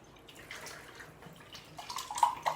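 Water runs faintly from a tap into a container, to be used for cooking bananas. It is a quiet, steady trickle with light drips, growing slightly louder toward the end.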